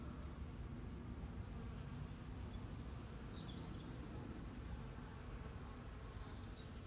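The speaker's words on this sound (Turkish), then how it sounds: "koca yemiş çiçeklerin hemen hemen her salkımında arı var" Steady, soft buzzing of bees working loquat flowers, a low continuous hum with no voices and no pauses.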